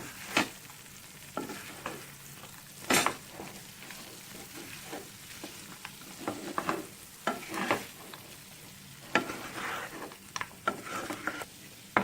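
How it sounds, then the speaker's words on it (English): Fried potato and anchovies being stirred into sambal in a pan, a soft sizzle under irregular scrapes and clinks of the spatula, quiet and close. "And now stir and make sure everything is coated well."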